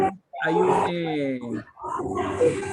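Puppies bark and whimper in short, close, strained yelps, with a brief gap and then more excited barking, mixed with voices.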